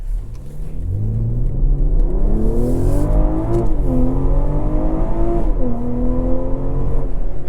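A 2024 BMW M340i Special Edition accelerates hard in Sport Plus with its performance exhaust, a loud close engine note rising through the revs, dipping at gear changes and climbing again, with no talking over it.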